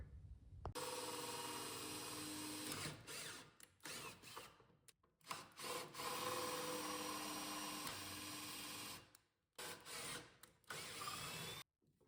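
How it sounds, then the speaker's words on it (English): Loud whirring bursts of a power drill drilling out rivets on a Harbor Freight 10-drawer tool cart, starting and stopping repeatedly with short pauses, close up and with no talking. "So I'm gonna go ahead and start drilling those out now"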